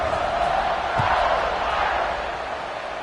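A stadium crowd in a college football video game roars steadily before a kickoff, a broad, sustained wash of cheering that eases slightly toward the end, with no distinct voices.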